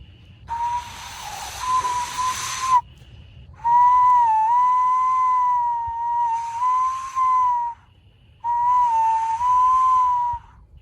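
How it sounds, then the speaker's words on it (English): A loud, high-pitched whistle sounds in three long blasts separated by short pauses, the pitch wavering slightly within each blast. "we're going to tempt it out with this patented haggis whistle"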